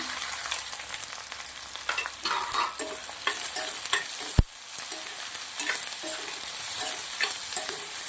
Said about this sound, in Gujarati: ડુંગળીને આપણે સરસ મજાની સંતરાવા દઈશું